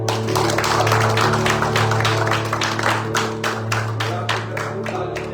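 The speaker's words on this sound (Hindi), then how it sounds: "अपने लिए ताली बजाएं" A church congregation at a Sunday worship service claps together, a dense run of hand claps over a steady low musical drone, loud and close, with the claps thinning toward the end.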